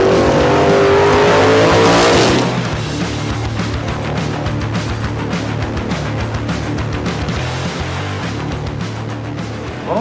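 X275 drag racing cars, including an '86 Mustang, roar hard under full acceleration at a Hot August Night event, a loud, close launch that fades into a sustained, rising engine drone.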